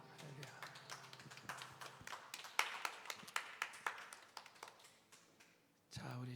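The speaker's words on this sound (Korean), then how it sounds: "아버지 하나님께 큰 박수로 영광 돌립니다" Church congregation clapping after a prayer, quiet at first and then rising into a run of distinct, fairly sharp claps, with voices audible around them and the sound dying off near the end.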